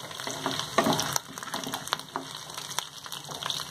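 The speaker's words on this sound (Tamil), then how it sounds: "லைட்டாக செவந்த பிறகு நீங்கள் பூண்டை சேர்த்துங்க." Garlic sautéing in a pan for tomato chutney, a close, steady crackling sizzle with stirring noises over it.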